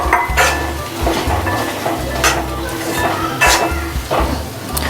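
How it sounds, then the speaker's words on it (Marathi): Peas go into a thick simmering gravy for matar paneer, with pan scraping and stirring clinks over a steady sizzle, nearby and fairly loud throughout. "आता ह्याच्यामध्ये आपण टाकूया मटर."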